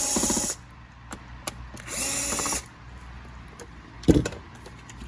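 Roomba 800/900 series robot vacuum having its battery and bottom cover removed: a few sharp bursts of screwdriver whirring and clicking plastic, with quiet handling noises between.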